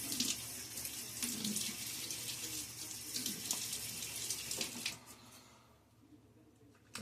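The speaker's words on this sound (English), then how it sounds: "Get my face wet." Tap water runs steadily into a sink while a face is wetted before shaving, a close splashing stream with small spatters, which stops partway through and leaves quiet before a final soft knock.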